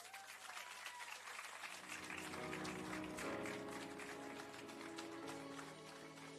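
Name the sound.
audience applause for a singer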